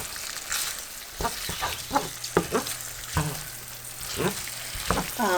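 Chicken pieces for a teriyaki bowl tossed and stirred in a hot pan, a steady sizzle broken by repeated scraping and clattering strokes of the utensil.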